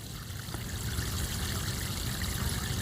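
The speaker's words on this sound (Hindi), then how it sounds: "ये मेरा आम का पौधा है और इसको देखिए हम पानी दे रहे हैं।" Continuous stream of water poured onto a potted mango plant in a rooftop garden, a steady close splashing trickle with no pauses and no voices.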